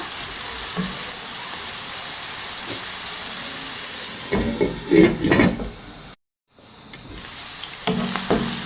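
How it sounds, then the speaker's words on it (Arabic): Onions frying in a pan for an Asian-style spaghetti with chicken and vegetables, a steady soft sizzle with bursts of louder crackling and stirring, close by, briefly cut out, with no talk. "خليو هذيك البصله تهبط لينا شويه."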